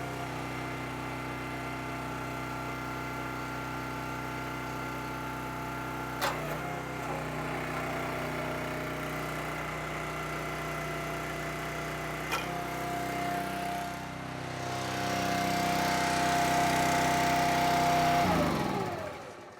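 The small gas engine of an Iron and Oak 30-ton horizontal/vertical log splitter runs steadily for a long stretch, with two sharp clicks along the way, its pitch rising and growing louder near the end before it cuts off.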